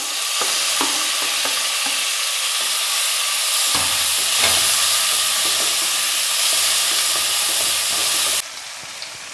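Tomatoes go into a frying pan of okra, bringing a steady, loud sizzle and hiss with scattered stirring scrapes and clacks; the frying settles lower and quieter toward the end.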